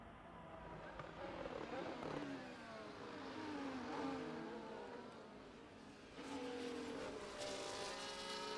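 Several racing cars in an F1 video game brake and swing round a hairpin, engines droning and shifting pitch as they slow and pick up speed, layered whines overlapping at moderate distance.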